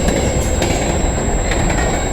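Railroad cars of a passing freight train on a line around London, Ontario roll by close and loud in a steady rumble with wheel squeal and clatter, no talk.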